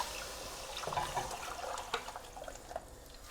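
Yogurt mix for pakora kadhi is poured slowly into a cooking pot, giving a soft, faint liquid trickle and splash with a few small drips against quiet background hiss.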